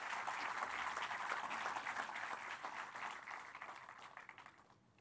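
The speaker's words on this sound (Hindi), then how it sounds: "जोरदार तालियों से स्वागत प्रधानमंत्री जी का।" Audience applause welcoming the Prime Minister at the inauguration of the National Museum of Indian Cinema, a dense, full clapping from a large crowd that holds steady before gradually fading out.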